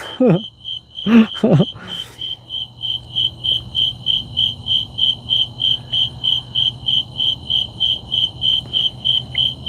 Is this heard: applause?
no